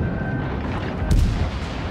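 Naval artillery fires in a World of Warships: Legends naval battle, with one sharp booming shot midway through over a dense, noisy game background.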